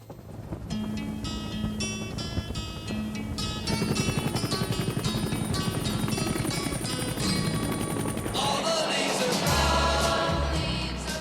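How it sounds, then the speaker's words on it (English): A Huey helicopter rotor turning, with a loud, steady rhythmic thumping and a high engine whine, close by with no talking. "Hear the sound, Dave? That's a Huey turning."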